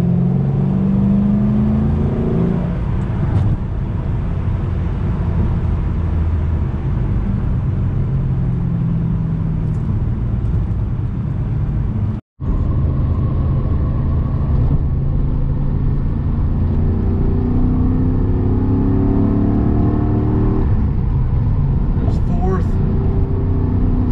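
A car engine, from a 2007 Shelby GT or 1981 Porsche 928 comparison drive, pulls hard in third gear from 40, rising in a steady loud drone with a brief dropout midway, over constant road rumble and interior noise.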